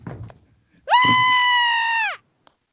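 A person screams loudly into a Zoom call, one sustained, high, strained cry lasting over a second, breaking in after some brief muffled talk and trailing off sharply.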